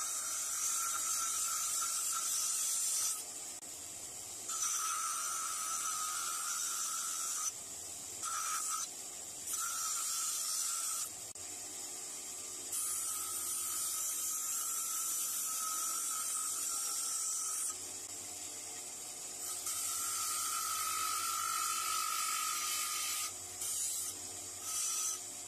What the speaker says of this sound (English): Take it over to the sander and shape it.